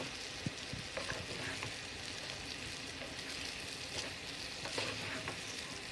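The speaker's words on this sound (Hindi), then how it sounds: "इसको अच्छे से मसाले के साथ मिक्स कर दूँगी।" Chicken and vegetable macaroni is stirred with spices in a frying pan, a steady moderate sizzle broken by repeated soft scraping and tapping of the utensil against the pan.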